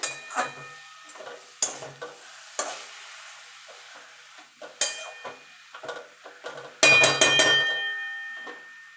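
Chickpea greens with turmeric being stirred as they fry in a pan, heard as scattered scrapes and soft sizzling bursts, then a louder clatter of the utensil near the end, close by with no talking.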